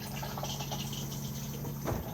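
Thetford cassette toilet in a 2021 Auto-Trail Imala 730 motorhome flushing: a steady rush of water running into the bowl for about two seconds, close and moderately loud, ending in a short gurgle.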